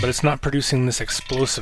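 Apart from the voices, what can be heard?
No everyday noise stands out behind the speech.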